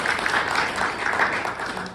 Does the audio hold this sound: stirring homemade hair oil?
no